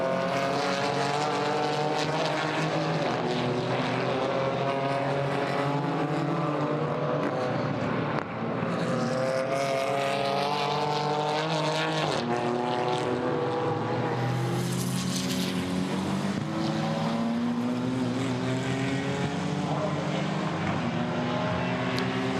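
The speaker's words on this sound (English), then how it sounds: "There is Max Cobalt still chasing on behind, doing his level best to get onto terms as the cars then sprint up the hill" GT4 race cars at the Nürburgring, including a Mercedes and a BMW, sprinting uphill in a European series race, their engines rising and falling in pitch as they pass, heard continuously from a distance with no talk.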